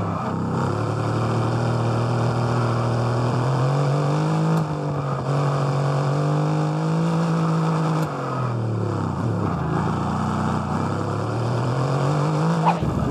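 A Formula 1 race car engine in the video game F1 22 whines loud and continuous, its pitch climbing and dropping through gear shifts and braking, with faint tire noise and no talk.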